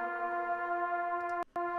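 Another recorded trombone voicing, one more harmony layer of a stacked chord, sustains a steady brassy note with strong overtones, then breaks off briefly near the end with a short click before resuming; no voices.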